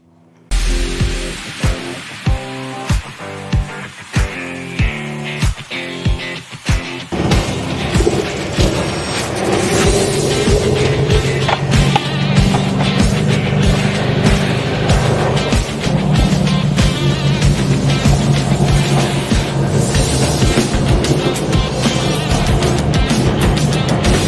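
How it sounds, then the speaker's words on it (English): A Jeep J-10 full-size pickup with older wheels and tires on the back sets off on a test drive: rhythmic thumps at first, then a continuous loud roar of engine and road noise. "now we're going to go for a test drive"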